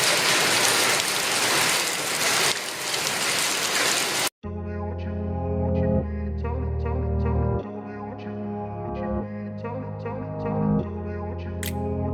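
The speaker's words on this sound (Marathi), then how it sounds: "नवी जिंदगीमध्ये अवकाळी पावसाला सुरुवात आपण पाहू शकता" Heavy unseasonal rain pours down in the Nai Zindagi area of Mohammed Ali Road in Solapur, a loud, dense hiss for about four seconds before it cuts off abruptly and gives way to music.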